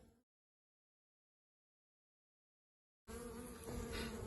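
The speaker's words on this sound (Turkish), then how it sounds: "Uçuş tahtasının üzerinde işte kovan dışına çıkıp dolaşan arılarımız var." Honeybees walking and hovering on a hive's landing board, with near silence at first, then a steady, close buzzing hum that swells in from about three seconds on and continues to the end.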